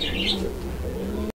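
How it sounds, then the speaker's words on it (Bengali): A pair of Rajshahi Giribaj pigeons makes a brief close coo with a chirpy note near the start, then the sound cuts off abruptly. "এটাও রাজশাহী গিরিবাজ কবুতর একটা জোড়া"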